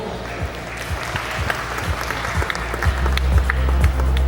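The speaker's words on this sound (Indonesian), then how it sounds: "Berikan tepuk tangan yang paling meriah untuk Project Manager EEMS 2025, Mas Rudiana." Audience applause at a launch event for IIMS 2025, loud, steady clapping that builds gradually over a thumping rhythmic beat from music in the hall.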